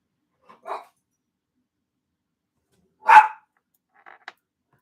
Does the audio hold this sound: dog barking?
yes